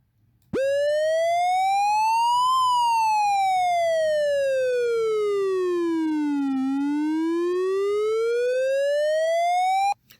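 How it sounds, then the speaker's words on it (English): A siren tone synthesized on a modular synthesizer, a bright buzzy triangle-shaped wail that glides slowly up, then down, then up again, loud and steady for about nine seconds before cutting off. "So that's more of a siren sound."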